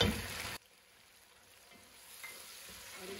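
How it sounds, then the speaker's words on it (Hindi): Tomatoes dropped into light-brown frying onions in a pan, a brief loud burst of sizzle that cuts off quickly and settles into a faint, steady frying hiss. "अब प्याज लाइट ब्राउन हो गया, अब हम इसमें टमाटर डाल देते हैं"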